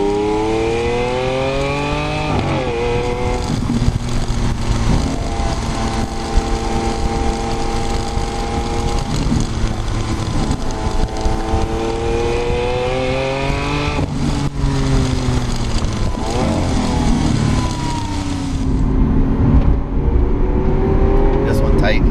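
A Lamborghini Aventador Super Veloce engine revs hard and continuously on a canyon run, its pitch rising and falling through gear changes, loud and sustained under someone talking.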